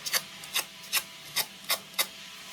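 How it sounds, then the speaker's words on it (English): Paper petal being fluted, stretched and rubbed between fingers, a series of six short, crisp rasping scrapes at a steady, even rhythm, close and fairly quiet with no talking. "the idea of this fluting is you're just stretching the petal, stretching the paper along the tips of the petal."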